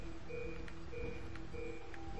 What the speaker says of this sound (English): This is as far as you can go to where it's beeping loud